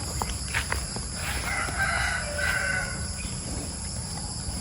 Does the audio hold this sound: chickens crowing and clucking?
yes